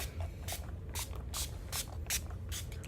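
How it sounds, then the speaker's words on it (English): Several short hissing bursts of Wild Wild makeup setting spray, spaced roughly half a second apart, loud and close against a low background rumble with no talking. "And now to finish this look off with some setting spray from Wild Wild."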